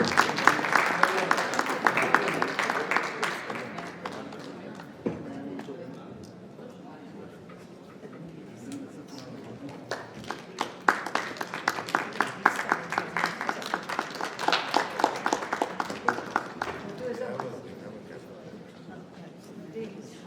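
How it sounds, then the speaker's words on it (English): Audience applause at a live talk event, dense clapping in two bursts, strong at the start, fading, then swelling again midway before tapering off, with a voice speaking over parts of it. "So can we please have a round of applause for our speakers?"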